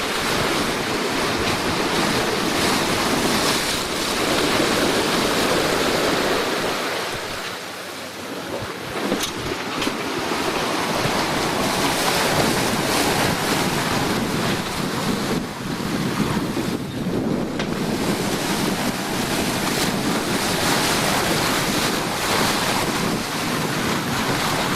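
Ocean waves roll in on a blustery day, a loud continuous wash of surf heavily mixed with wind buffeting the microphone, with a brief lull before the roar returns.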